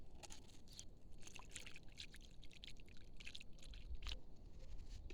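Warm water poured from a container onto a freshly planted tomato seedling in an outdoor garden bed, a soft, steady splashing trickle soaking into the soil, close and fairly quiet, with no talking.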